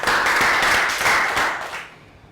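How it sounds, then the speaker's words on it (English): A Year 3 class claps together in a short, dense burst of applause that fades out within a couple of seconds, with no talking over it. "round of applause"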